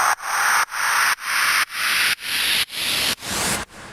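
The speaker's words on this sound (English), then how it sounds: "This is a sample of a noise sweep I found somewhere." Reversed white-noise sweeps from a production sample pack repeat about every half second, each swelling in loudness and brightness before cutting off abruptly, in a pulsing series of eight with no voices.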